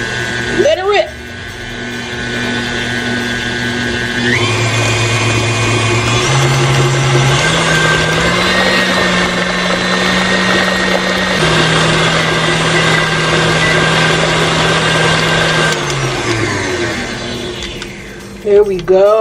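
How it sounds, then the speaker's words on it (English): Electric whisk mixing ingredients while cooking Christmas dinner, a loud, close, steady high motor whine that shifts speed several times before cutting out near the end. "Pop the whisk on and let it rip."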